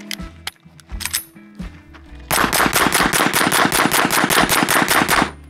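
A Ruger RXM 9mm pistol fitted with a Stealth Additive Works Shiv suppressor: a few handling clicks, then a rapid string of around twenty sharp, evenly spaced muffled shots fired close by.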